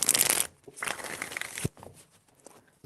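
Tarot cards being shuffled by hand, with quick papery riffling bursts followed by softer rustling and a short pause before another flick, close and fairly quiet.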